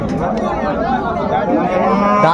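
A cow with her calf at a busy cattle market at Raniganj haat, with crowd chatter and voices talking throughout and possible lowing mixed into the steady din.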